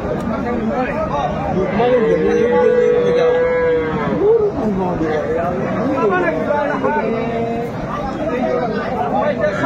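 Cows with their calves at the Aftabganj cattle market moo in long, wavering calls close by, rising and falling over a continuous hubbub of people talking.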